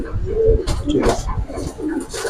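A male Sabchila Giribaz pigeon coos in repeated low throaty calls up close, with handling noise and a faint human voice in the background.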